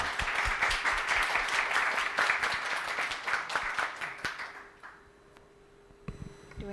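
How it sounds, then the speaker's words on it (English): An audience at an Expo 2020 Dubai panel session on food innovation applauds the panelists, a dense, loud wave of clapping that thins into a few scattered claps and fades out. "please help me in giving a round of applause to our wonderful panelists"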